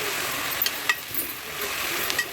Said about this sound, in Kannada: ಮೊಳಕೆ ಕಾಳು ಹಾಕೊತಾ ಇದ್ದೀನಿ ನೋಡಿ ಈ ಥರ ಮಿಕ್ಸ್ ಮಾಡ್ಕೊತಾ ಇದ್ದೀನಿ